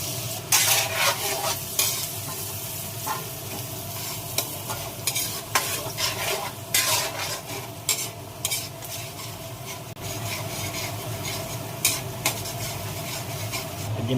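Ricados poured into hot oil and butter in a pan for lobster, sizzling steadily while a utensil stirs and scrapes with repeated clinks and scrapes, close and continuous, no talking.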